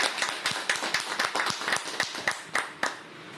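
A small audience claps together in a steady rhythm, about a dozen sharp, fairly close hand claps, each trailing into a brief hall echo.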